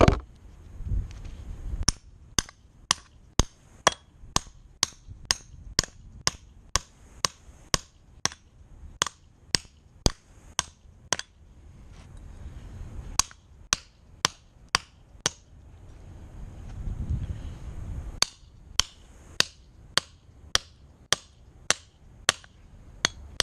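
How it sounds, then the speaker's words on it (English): A metal foot peg for a custom mini bike is hammered flat, giving sharp, evenly spaced metallic strikes in quick runs with short pauses between bursts, close and loud in a quiet workshop. "So let's get to hammering."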